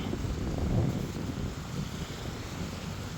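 Strong wind gusts on Saipan ahead of an approaching typhoon, a loud rumbling roar buffeting the microphone and swelling briefly before holding steady, with no voices.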